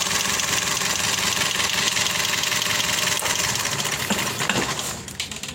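A Toyota Vios engine idles with a severe misfire, heard as a steady, rough, close mechanical chatter that runs without a break and fades slightly near the end.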